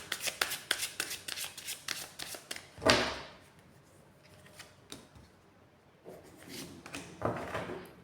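Tarot cards being shuffled by hand, a rapid riffling flutter of close card clicks, then a pause and a softer second burst of shuffling.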